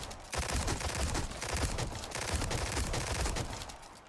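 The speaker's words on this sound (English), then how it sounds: "This stock reins in the recoil and the spread and allows you to fire 3 shots at a time" Stocked pistol in Resident Evil 4 Remake firing rapid three-round bursts, a dense string of sharp, quick shots repeating steadily with almost no gap, fairly quiet and with no talk.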